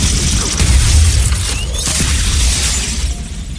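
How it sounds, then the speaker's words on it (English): Dense, loud explosions in the video game Halo: Combat Evolved pile up with crashing, shattering bursts and booming low rumble, continuous and chaotic throughout. "Jesus Christ, there's a lot of explosions happening."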